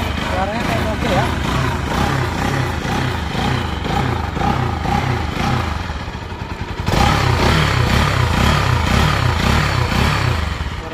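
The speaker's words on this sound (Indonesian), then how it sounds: "kita cek sound dulu mesinnya nih" A 2016 Kawasaki Pulsar NS 200 motorcycle engine idles steadily up close with a rhythmic chugging pulse that holds throughout, while someone talks over it.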